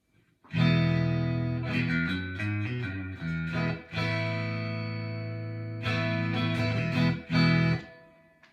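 A clean Fender Stratocaster through a 1980 Fender Pro Reverb tube amp plays sustained chords and short riffs, bright and undistorted, with notes ringing out between pauses.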